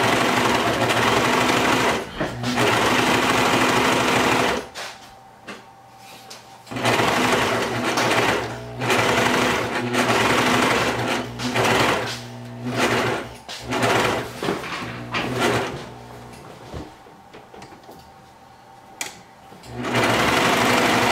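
A Brother 1034DX serger runs in long loud bursts while stitching baby bell-bottom flare pants, its rapid mechanical whir stopping and restarting several times, with short pauses between runs and a little talk.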